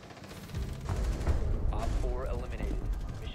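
Rapid gunfire from the TCSG weapon in a Villa match of a shooter game, bursts of shots mixed with game effects and a player's excited voice over the top.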